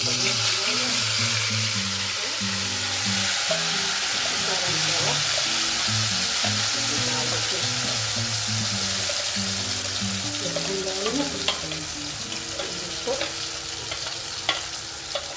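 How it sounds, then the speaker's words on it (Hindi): Masala frying in hot refined oil in a kadhai while paneer kofta curry is being made, a steady broadband sizzle throughout with soft stirring scrapes and a few clinks near the end, fairly close and loud. "जब तक तेल ना छूटे तब तक इसको पकाते रहे मसाले को"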